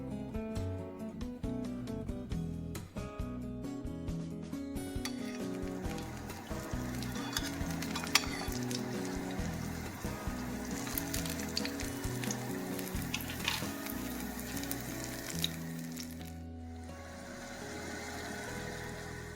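Banana plantain egg rolls (turon) fry in a Saladmaster pan, giving off a dense, continuous sizzle and crackle of oil that holds steady throughout with no talking.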